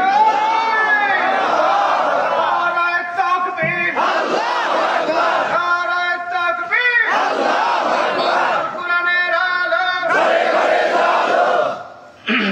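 At a Bengali waz mahfil in Pabna, a large crowd chants the takbir slogan in unison in response to a preacher, loud and sustained, in repeated rhythmic waves of massed voices.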